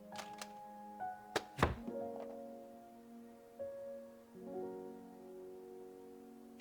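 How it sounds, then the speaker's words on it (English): Gunshot from a trigger press in the video game Love & Deepspace: a sharp, loud crack stands out against quiet tonal music, followed by a couple of softer thuds. "Steadily press the trigger with your index finger, applying even pressure."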